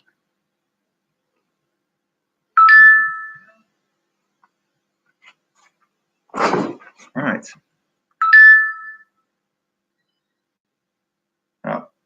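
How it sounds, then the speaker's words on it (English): A mobile phone rings indoors with two short, bright electronic ringtone bursts several seconds apart, and a brief spoken voice falls between them. "Phone is going off."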